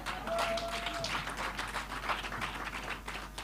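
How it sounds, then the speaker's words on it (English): A conference audience claps in a steady, dense patter of many hands, moderately loud and continuous, with no talk over it. "I can see the men clapping a little bit reluctantly"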